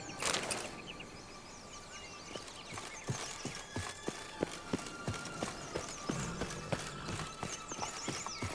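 Hoofbeats of Geralt's horse Roach galloping in The Witcher 3: Wild Hunt, a steady clip-clop rhythm of close, sharp thuds continuing throughout, with faint birdsong and ambient outdoor sound behind.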